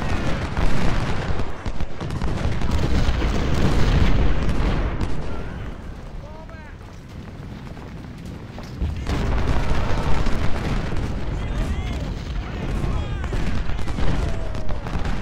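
Cannon artillery fire in the Civil War strategy game Ultimate General: Civil War, during the Fredericksburg battle, with repeated deep booms and crackling gunfire layered into a loud continuous barrage, dipping briefly midway before surging again.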